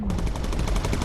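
A gunner firing incendiary ammunition in the bomber game Bomber Crew, a loud rapid burst of machine-gun fire with evenly spaced shots, close and continuous for about a second over engine drone.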